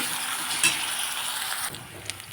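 Ginger garlic paste and crushed green chillies sautéing in a pan for a Jalgaon-style rassa vada, a soft steady sizzle with a sharp spatula scrape partway through.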